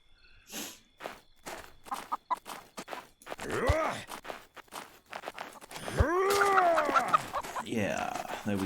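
Chickens in the medieval RPG Nested Lands cluck and squawk in a string of short calls, with a louder crowing-like rise near the end, over soft footsteps and game ambience.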